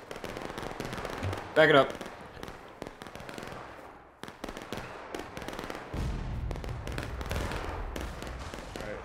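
Crackling, scattered musket volley in a War of Rights battle, sharp reports rolling under shouted voices, with a dense burst near the start and more distant popping gunfire continuing throughout.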